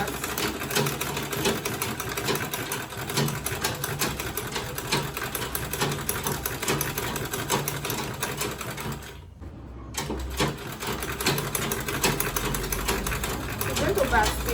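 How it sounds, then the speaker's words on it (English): A sewing machine stitches a quilted tote bag at half seam allowance, running steadily and close for most of the stretch with one brief pause near the end, while a voice talks over it. "So I'm sewing at half seam allowance."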